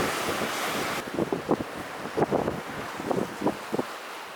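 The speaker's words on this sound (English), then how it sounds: "But there's a beach." Waves washing onto a cute little beach below cliffs, heard as a soft surf hiss with small splashing surges, rough with wind buffeting the microphone.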